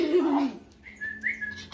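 A dog at home gives a short, fairly loud whine in the first half-second, followed by a thin, high whistle-like tone with faint background noise.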